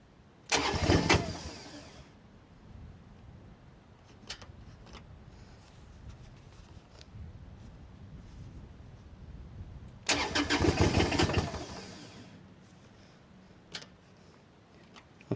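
Diesel engine of a Baumalight TRL630D mini skid steer cranking and catching twice, each start a loud burst of roughly two seconds, with a low idle rumble running between and after them and no talk.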